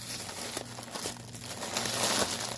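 A plastic bag holding stamped cross stitch kits and a tool crinkles steadily as it is handled and opened, close and continuous with no talk.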